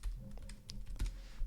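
Quick, close keystrokes clatter on a computer keyboard in an irregular burst of soft taps, with no voices.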